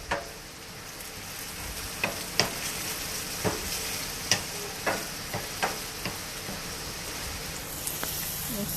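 Poor man's chow mein sizzling steadily in a pan, a continuous frying hiss broken by occasional sharp pops and spatters, fairly close and unaccompanied by talk.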